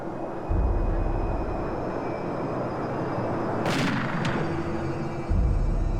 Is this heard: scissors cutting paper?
no